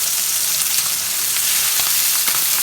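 Pork pieces sear in a hot pan beside collards, giving a loud, close, continuous sizzle and crackle with faint scattered pops and no talking.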